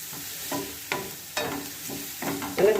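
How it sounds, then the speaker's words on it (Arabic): Onion and garlic sauté in a pan with soft sizzling, broken by several sharp stirring scrapes and clatters at irregular intervals, close and fairly loud. "غنخليو هاد البصله ديالنا تشحر لنا واحد شويه وتنزل"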